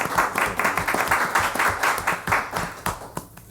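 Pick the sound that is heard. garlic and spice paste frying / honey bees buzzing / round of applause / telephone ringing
round of applause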